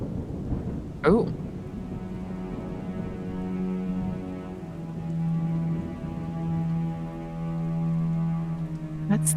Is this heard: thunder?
yes